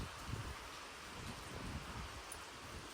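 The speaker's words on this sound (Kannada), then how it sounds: "ಮಳೆ ಬರ್ತಾನೆ ಐತೆ" Soft, steady patter of rain falling on the hills at Devarayana Durga, faint and continuous with low rumbling wind-like noise underneath and no voices.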